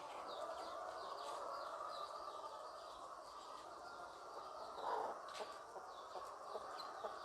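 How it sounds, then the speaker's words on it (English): A brooding hen clucks on a small farm beside rabbit cages, where BV380 birds are kept, her soft calls blending into a steady noisy background with one louder cluck standing out midway. "This is one brooding hen."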